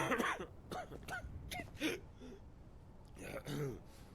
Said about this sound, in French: Qui est en train de tousser là